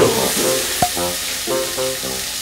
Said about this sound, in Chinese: 我们要先来炒香这些食材。